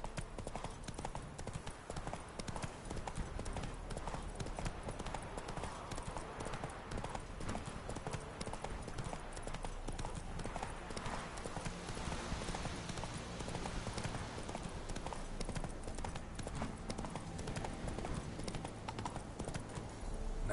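Horse hooves clip-clopping at a steady gallop in the video game The Witcher 3, a continuous rhythmic drumming heard almost alone with only faint background sound.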